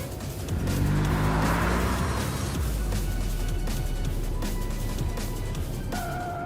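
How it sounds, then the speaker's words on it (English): Car in a video game racing through city streets out of a tunnel: a loud close engine roar with tire squeal and passing rush, steady throughout, ending in a brief high tone. "The car emerges from the tunnel and races through the streets of the killing zone."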